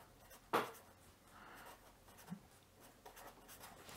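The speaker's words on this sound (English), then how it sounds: "I'll write it this way." Marker or chalk strokes on a board during a lecture on PLC programming languages, faint rubbing scratches in short bursts with one sharp tap near the start, quiet and without talk.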